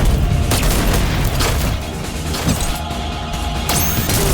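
Pistol fire in the fast-paced movement shooter Unyielder, a run of loud booming shots with sharp transients over dense, continuous game noise, close and full.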